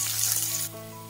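A short burst of bright hissing sizzle, loud at first and then easing off, as fresh ginger and garlic fry in hot oil in a pan.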